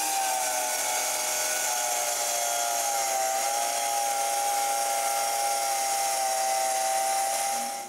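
A table saw runs continuously while cutting the bottom piece of a wooden moveable workbench, a loud steady whine that holds for several seconds and then begins to drop off at the end.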